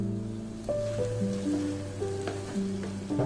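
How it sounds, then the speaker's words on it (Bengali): Vegetable pasta in a creamy sauce with mozzarella is stirred in a pan, giving a soft, steady sizzle and wet stirring noise with a few light utensil knocks, close and alone. "এই তো মশলাগুলো নেড়ে চেড়ে আমি পাস্তাটা দিয়ে দিয়েছি।"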